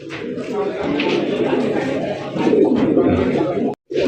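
Fancy Andalusian red indigo pigeons coo inside a high cage, a steady mass of low cooing that runs throughout, with people talking over it in the background.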